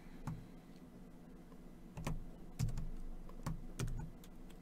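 Someone types on a computer keyboard they are unfamiliar with, with a handful of separate, fairly crisp key presses spaced irregularly over a quiet room background.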